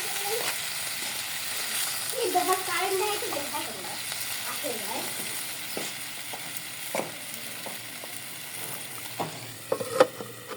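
Rui fish curry broth cooked with drumsticks bubbles in a pan, a soft close simmer with scattered small pops and gurgles, while a person speaks briefly early on.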